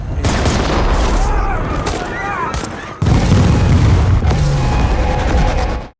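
Film battle scene with a Hellfire missile strike: a loud explosive boom and rumbling blast, heavy low roar continuing through the clip amid combat noise, with a voice speaking over it.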